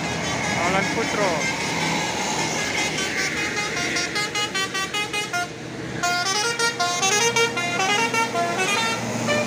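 Two tour buses move in convoy around a bend, engines rumbling continuously as multi-tone horns blare in long repeated bursts and rapid stuttering toots, loud and close.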